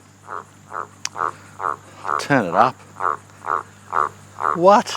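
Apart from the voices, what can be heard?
frog croaking loudly in the background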